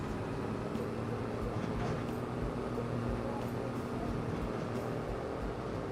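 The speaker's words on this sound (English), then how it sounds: "I think the train's just gone across the bridge." Low rumbling rush of a train rolling across a bridge in Farming Simulator 25, a steady mechanical drone with faint clacks, fairly distant and continuous without voices.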